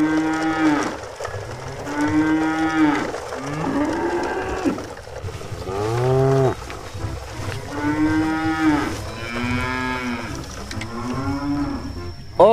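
Contest cattle loaded on a truck moo repeatedly, long loud bellowing calls one after another, close by over a steady rumbling background.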